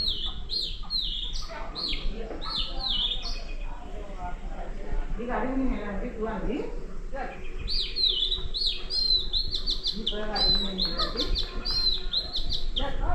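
Birds chirp and tweet in repeated bursts near a village well on an evening in the countryside, with bright calls throughout and low background noise and voices underneath.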